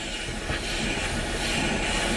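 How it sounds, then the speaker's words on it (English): Car brakes with a fault giving off a steady broadband hiss when pressed, loud and continuous, heard close inside the vehicle with no talking. "I've never heard brakes sound like this before."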